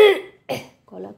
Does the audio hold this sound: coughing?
yes